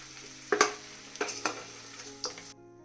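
Chicken fry is stirred in a frying pan: several sharp scrapes of a spoon against the pan over a soft sizzle, close and distinct. The clip cuts to silence at the end, and no one talks.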